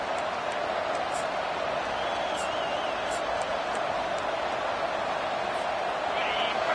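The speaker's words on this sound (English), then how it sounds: "listen to the roar of this crowd" A college football stadium crowd roars as the defense takes the field early in a game, a dense and unbroken wall of noise that stays loud and steady, with an announcer's voice over it.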